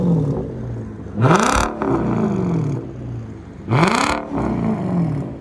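An Infiniti/Nissan V6 engine is revved hard twice, each run climbing quickly and slamming into the rev limiter cut-off before dropping back to a rough idle; loud and close, with no talking.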